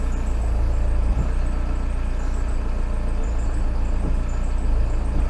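Air-cooled engine of a VW Camper van running steadily at close range while its clutch is engaged into gear after a slave cylinder replacement, a continuous low rumble with no talk.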